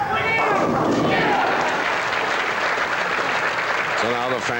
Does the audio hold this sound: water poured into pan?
no